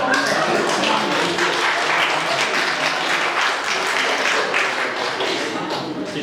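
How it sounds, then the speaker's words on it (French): Steady applause from a church service crowd in Weinbourg, dense clapping that holds at an even level throughout with a murmur of voices mixed in. "Si j'avais su que pour me faire applaudir"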